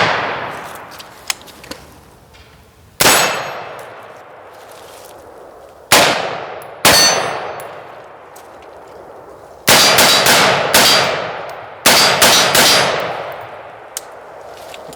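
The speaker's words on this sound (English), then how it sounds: "You get a nice crisp ping kind of noise every time you fire." Sharp M14 rifle shots strike steel targets, each a loud crack followed by a bright metallic ring that fades slowly, coming singly and in quick pairs with pauses between.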